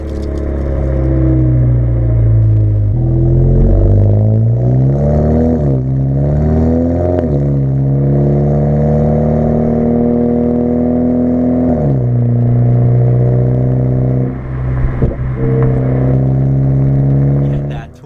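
A 2017 Audi A4 B9 fitted with an AWE Track Edition exhaust drones loudly and up close, its pitch climbing and falling with throttle through several revs before settling into a steady low hum.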